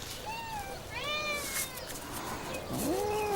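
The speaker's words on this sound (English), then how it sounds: "Cats from far and wide are irresistibly drawn to a seemingly insignificant plant." Several cats drawn to catnip meow in drawn-out, wavering cries, a few calls spread over a few seconds against a steady outdoor hiss, with no talk.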